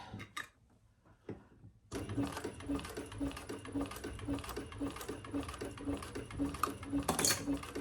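Sewing machine basting an eighth-inch seam along a zipper on a crossbody bag, a steady rapid stitching rhythm that starts after a short quiet pause and runs continuously, close and moderately loud.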